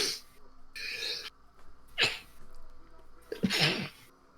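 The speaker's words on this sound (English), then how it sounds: "That was a sneeze." A person sneezes several times in quick succession, each a sharp burst of breath with a noisy hiss, separated by short pauses, close and fairly loud with no talking.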